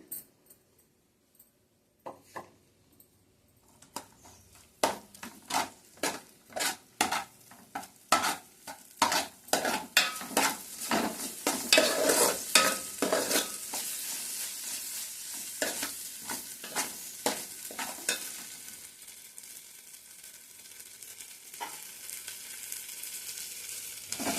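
Fish with gravy frying in a pan while being stirred: rapid, rhythmic spatula scrapes and clanks sit over a continuous sizzle, growing denser midway and easing into a softer bubbling fry toward the end.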